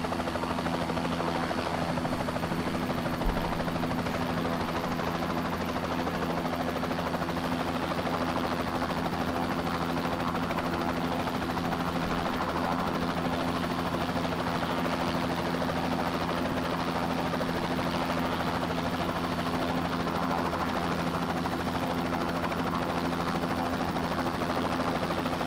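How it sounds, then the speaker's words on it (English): A Bell 206B3 helicopter hovers in Microsoft Flight Simulator, its rotor and turbine producing a loud, unbroken drone with a steady low thrum throughout. "So it does definitely look like a helicopter in a hover."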